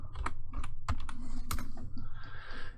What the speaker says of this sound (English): Type in our sudo password.